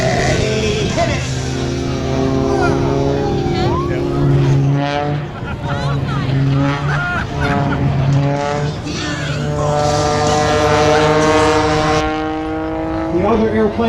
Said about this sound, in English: he rolls the airplane going straight up under the power of that Lycoming Thunderbolt I-0580 engine